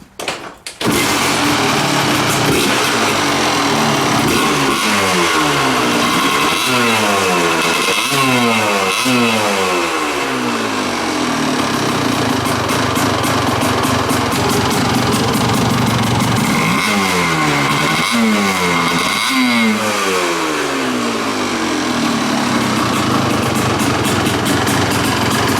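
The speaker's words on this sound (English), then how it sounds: "So I think that I can say with reasonable confidence that this engine is finally running right." A Kawasaki dirt bike engine, its pilot jet changed to a leaner 42, idles loudly and close by, then revs up sharply in repeated bursts before dropping back to idle.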